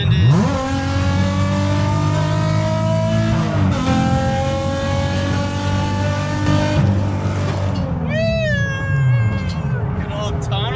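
Drift build car in Japan accelerating hard through a tunnel, its engine note rising and falling loud and close with reverberant echo, pitch climbing through gears before a sharp rev at the end.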